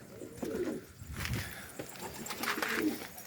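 Domestic pigeons, yellow Hungarian and yellow Güllü breeds, coo nearby in soft, low, rolling phrases, a few calls over three seconds against faint background noise.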